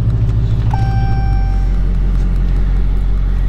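A custom 1969 Plymouth Road Runner engine heard on a ride, a loud, steady low rumble close up throughout, with a brief high tone near the start.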